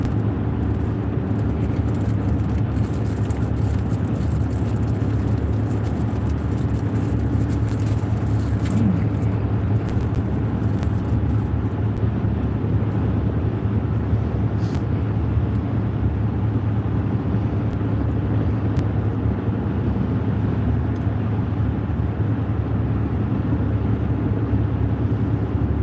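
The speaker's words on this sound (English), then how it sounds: "That wind is really a-blowing today." Strong wind roars steadily around a parked truck on a Southern Missouri road trip, a continuous loud rumbling buffet with no pauses, close and filling the whole stretch.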